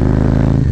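A motorcycle fitted with a Screaming Eagle cam runs close by, a loud, steady, pulsing engine rumble with an even throb throughout a brief moment of throttle.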